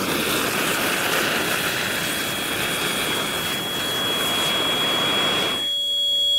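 A model rocket motor fires on a launch rod, making a loud, continuous roaring hiss for several seconds that cuts off abruptly near the end.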